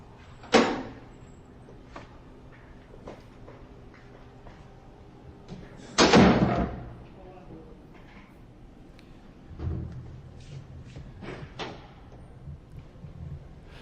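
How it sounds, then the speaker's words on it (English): A door pushed open inside a police station interrogation area, giving a sharp thump near the start, a louder bang with rattle around six seconds, and a softer knock later, each standing alone over quiet room tone. "Push that door open."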